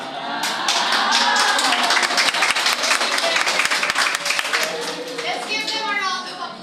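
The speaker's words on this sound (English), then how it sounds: "Let's give them a round of applause." Audience applause at a class performance's curtain call, a steady burst of many hands clapping that fills the whole stretch, fairly loud and close, with some voices mixed in.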